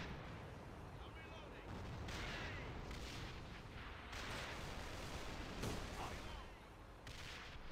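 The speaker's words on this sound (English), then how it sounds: "And that RPG right there." Gunfire and an RPG blast in the online shooter AVA during an escort round: a dense, steady wash of shots and explosions, loud throughout, with a brief sharper burst near the middle.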